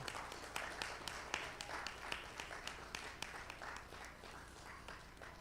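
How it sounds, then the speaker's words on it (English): Graduates at a Seventh-day Adventist church education celebration turn and clap for their parents, a steady, moderately loud wash of applause with sharp individual claps standing out throughout. "Turn around and applaud those parents and all those people that supported you."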